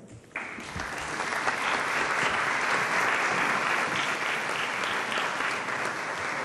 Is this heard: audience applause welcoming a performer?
yes